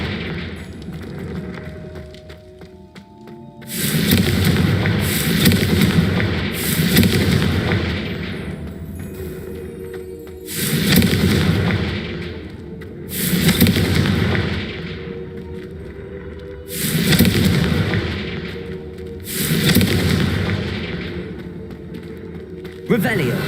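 Confringo blasting spells in Hogwarts Legacy: a series of six or seven heavy, booming blasts at roughly three-second intervals, each loud and rumbling with a lingering tail, with game voices faintly beneath.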